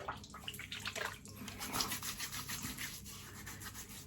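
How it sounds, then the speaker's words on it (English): Close, quiet trickle of water splashing into cupped hands, with soft rubbing and wet friction sounds, as the face is wetted before shaving. "let's just tip some of that water out into my hands"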